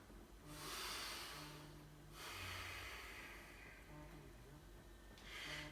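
Slow, deep breaths drawn in and let out during a yoga session, several long airy swells of breath close to the mic, with a low steady hum underneath.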